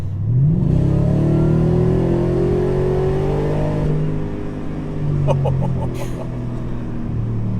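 A Ford F-150 Raptor R pickup truck engine in Baja mode revs and rumbles steadily, pitch climbing as it accelerates, heard from inside the cabin with a few faint clicks near the end.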